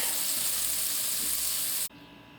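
Rehydrated 23-year-old freeze-dried pork chops frying in a pan, a steady loud hiss of sizzling fat up close that cuts off abruptly near the end.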